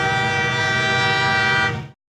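A train sounding its horn at a railroad crossing near a campground in a national park, one long loud sustained blast at close range that cuts off abruptly at the end, with no voices.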